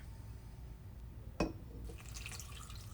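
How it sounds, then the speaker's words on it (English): A cup of water is poured into a pot of black-eyed peas for a New Year's dinner, heard as one short, sharp splash, then a softer trickle and bubbling that fade in a quiet kitchen. "And then I'm also gonna add a cup of water,"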